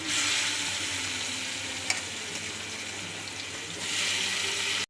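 Mustard seeds, urad dal and fenugreek sizzle steadily in hot oil, a close, continuous frying hiss that swells louder toward the end, with a single sharp click partway through and no talk.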